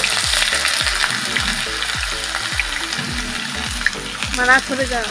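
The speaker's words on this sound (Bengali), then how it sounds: "দিয়ে দিচ্ছি গরম তেলে হিং। দিয়ে দিচ্ছি আদা কুচি।" Asafoetida and chopped ginger fry in hot oil with a busy, crackling sizzle, mixed with low rhythmic tones and brief bubbling, while a voice speaks over it.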